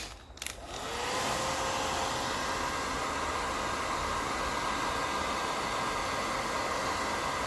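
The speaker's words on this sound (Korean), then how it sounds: "역시 드라이기가 뜨거워서" A hair dryer clicks on and ramps up into a steady, loud whooshing blow of hot air that holds constant throughout, shrinking heat-shrink tubing.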